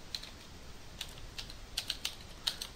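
Close, quiet typing of code on a computer keyboard: irregular bursts of light key clicks with short pauses, a few sharper taps, no talk.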